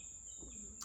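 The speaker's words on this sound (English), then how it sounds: "you maybe hear the crickets in the background" A steady high trill of crickets in rural Florida carries on without a break, faint and constant in the background, with no one talking.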